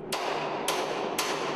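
A small hammer taps a moderately dented steel plate on a shipping container to straighten it, giving three sharp, evenly spaced metallic strikes with no voices.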